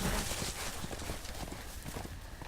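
Horse hooves clip-clop in the Game of Thrones: A Telltale Games Series video game, a quick run of hoofbeats at steady moderate loudness, close and continuous, with no talk over them.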